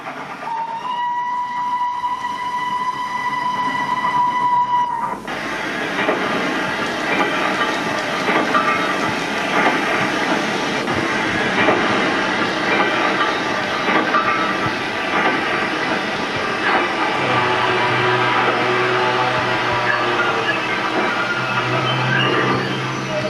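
After the lifting bridge lowers and level crossing gates close, a steady tone gives way to a loud rushing, hissing rumble of a train rolling in, with clattering wheels that continue and slowly settle.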